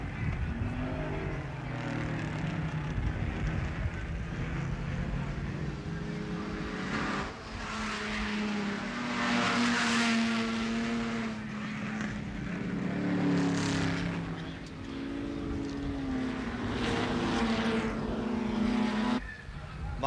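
Production touring cars race in 1972 at Warwick Farm, white Valiant Chargers and a Ford Falcon GTHO roaring past in a continuous, rising and falling engine drone with changing pitch, moderately distant, with faint commentary underneath.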